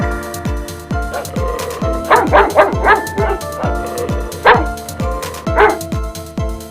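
A dog barks and yips repeatedly in excited, uneven bursts over a bouncy children's phonics song with a strong beat, the barks loud and close within the music.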